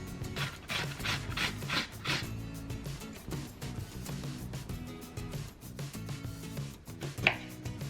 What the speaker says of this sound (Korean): 방울토마토를 썰어줍니다.